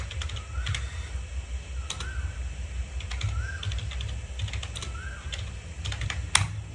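Computer keyboard typing at close range, with keystrokes in short quick bursts separated by pauses and a soft chime sounding between some bursts.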